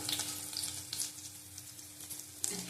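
Chopped garlic and fenugreek seeds fry in hot oil, a soft, crackling sizzle with small pops, fairly quiet and close.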